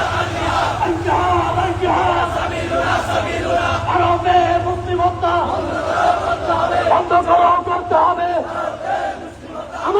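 Protest crowd chanting at a rally in Park Circus, a loud mass of voices shouting in unison with a steady rhythmic drive, sustained and close for the whole stretch.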